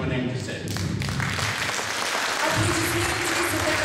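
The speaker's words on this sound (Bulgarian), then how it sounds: "Аплодисменти за такава свята дейност" An audience applauds at a Bulgarian event honouring a donation to restore a church in Bolgrad, a dense sustained clapping that stays loud from start to finish, with some voices mixed in.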